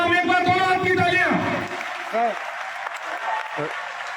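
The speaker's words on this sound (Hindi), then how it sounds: "एक बार दोनों हाथ की तालियां" Audience applauding for Olympic bronze-medal wrestler Bajrang Poonia at an academy event, steady clapping following a speaker's announcement, with a voice heard over it at the start.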